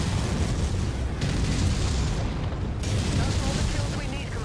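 An enemy mech explodes in a MechWarrior game, a deep booming blast with rumbling aftershocks and crackling debris, loud and continuous, with a voice speaking over it.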